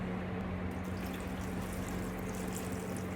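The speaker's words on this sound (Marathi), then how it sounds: "तर आपण सगळं पाणी घालून शिजवून घेऊ।" Water running into a pressure cooker holding vegetables for pav bhaji, heard as a continuous, even rushing pour up close with no talking.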